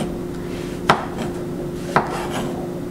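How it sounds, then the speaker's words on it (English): A knife cuts through halved mushrooms laid flat on a board, giving two crisp, isolated chops about a second apart over a quiet steady hum. "you want to lay this half down so that it doesn't roll and begin slicing."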